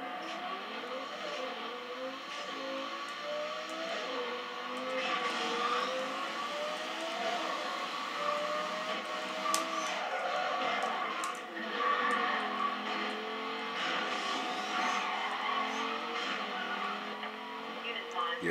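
Racing car engine in the Need for Speed Undercover video game, revving and shifting steadily throughout with occasional tire noise, heard alongside game music and effects while someone talks over it.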